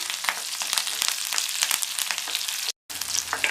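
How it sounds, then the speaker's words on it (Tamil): Small onions and curry leaves fry in a pan with a bright, crackling sizzle and quick stirring pops, steady apart from one brief dropout near the end. "இந்த வெங்காயம் ஓரளவு கலர் மாறி வர வரைக்கும் வதக்கிக்கணும்"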